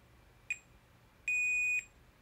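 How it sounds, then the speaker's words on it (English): A multimeter in diode mode sounds its continuity beep during a MacBook Pro logic board repair, first a brief chirp, then a steady, clear half-second tone over quiet background. "let me put it in the diode mode so you can hear the beep"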